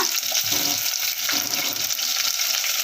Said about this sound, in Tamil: இப்போ மூணு பச்சை மிளகாய் போட்டு இதை நல்லா நம்ம வதக்கி விட்டுறலாம்